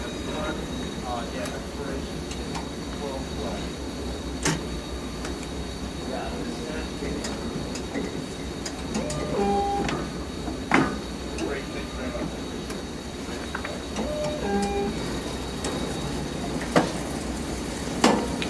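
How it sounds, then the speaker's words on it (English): A BQ 160 book binder runs its automatic cycle with a steady mechanical drone, scattered clicks and knocks, and occasional short tonal whines over the continuous hum. "You can tell by the sound that the roughening was automatically turned off, and it's an automatic cycle."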